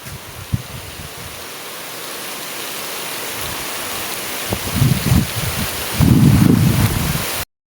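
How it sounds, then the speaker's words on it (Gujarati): Heavy rain pouring down at the end of a long dry spell, a steady broadband wash that swells and grows louder toward the end, with a few heavier gusts of drumming. "વરસાદ આવી ગયો ફાઇનલી."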